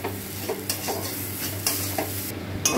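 A pointed gourd mash with turmeric, chilli powder and salt sizzles in a pan while a spoon scrapes and stirs it in repeated strokes, the close scraping rising over a constant frying crackle.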